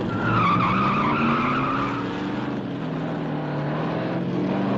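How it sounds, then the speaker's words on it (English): A 1967-era race car skids and spins out on a racetrack after being tapped, a loud continuous engine roar with sliding tire noise throughout. "Wise has tapped Callahan and spun him out."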